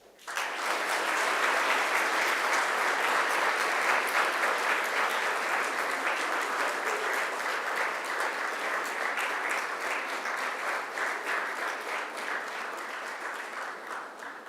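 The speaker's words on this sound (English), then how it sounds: "I invite you to give them a mighty round of applause" Graduates at a Macquarie University graduation ceremony applaud their families and friends, a broad sustained wash of clapping from a large seated crowd, even and continuous for over ten seconds before easing slightly.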